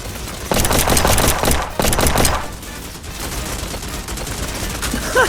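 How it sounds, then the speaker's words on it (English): Enemy gunfire in the video game Strike Force 3 rattles in dense, loud bursts for about two seconds, then drops to a quieter background of game sounds. "They just keep shooting even when I'm dead."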